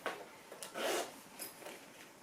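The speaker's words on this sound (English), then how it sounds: "It zips up and there's no pressure on the bag whatsoever." A Louis Vuitton Pallas crossbody bag has its zipper pulled closed in a couple of quick, close, quiet rasping strokes, with no talking.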